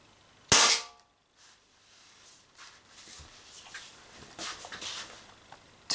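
A single sharp crack from an Umarex HDP50 air pistol firing an 8 gram ball, loud and close, followed by a quiet room with faint handling and footsteps.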